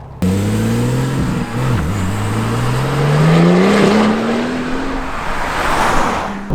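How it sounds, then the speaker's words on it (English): A RUF RTR rear-wheel-drive 911 sports car with a 650 hp engine and manual gearbox drives off on cup tyres, its engine loud and close, revving up through the gears with rising pitch and a brief dip at a shift. "I'm gonna go for a little drive and get my impressions on this car"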